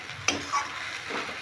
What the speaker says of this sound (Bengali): এইভাবে নাড়তে চাড়তেই রান্না হয়ে যাবে বাঁধাকপিটা।